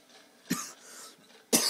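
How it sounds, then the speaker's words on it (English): Two short, sharp coughs sound about a second apart over quiet game background noise, close to the microphone and with no talking. "I hate coughs."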